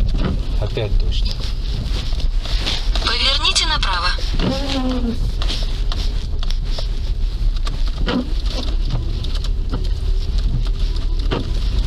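Rain patters on a car driving through town, a steady wash of broadband noise with scattered drop ticks, while people talk inside the car and a navigation voice gives a direction.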